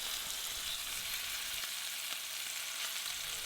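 Bone-in ribeye searing slowly in a tall cast-iron cocotte gives a steady, even sizzle with a fine crackle, held at moderate loudness with no voices throughout.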